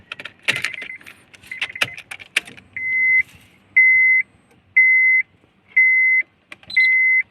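Car keys jangle up close near a Honda Jazz, followed by five evenly spaced loud electronic beeps, each about half a second long, as the ignition is tried with a key lacking its immobilizer chip.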